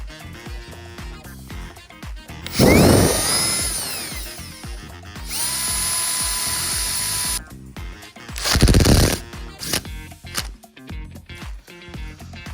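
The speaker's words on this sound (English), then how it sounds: "we're gonna put a self-tapping screws on each side" A power drill drives self-tapping screws into a 1965 Volvo PV544, with two bursts of whirring, the first about five seconds long and the second shorter, near and loud over quiet background.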